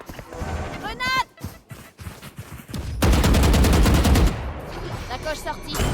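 Rapid automatic fire from a Vandal rifle in a tactical shooter video game, a loud sustained burst in the middle with shorter shots before it, while a voice talks over the action.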